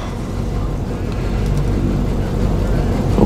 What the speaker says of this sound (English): I've missed driving this truck.